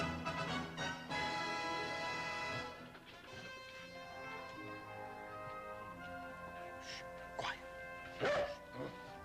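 A small dog barks and yips a few times, faint and intermittent after music fades, in a 1960s comedy film scene.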